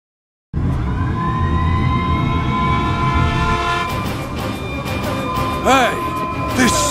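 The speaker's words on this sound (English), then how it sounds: "Hey, this siren! It sounds different." A loud, sustained siren-like tone in Xenoblade Chronicles holds steady with layered harmonics. Rising and falling warbles come in near the end, and there is no speech.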